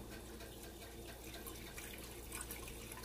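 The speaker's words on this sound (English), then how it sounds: "We're going to add in a little bit of water," A small splash of water pours steadily into a cooking pot of Cajun seafood stuffing for bell peppers, a faint continuous trickle under soft kitchen background noise.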